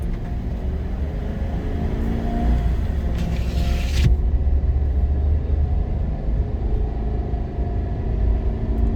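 Inside a 2024 Chevy 2500 HD with the gas 6.6 V8, a low steady road rumble and muted engine drone carry on during normal driving, quiet and even with a brief airy swell midway.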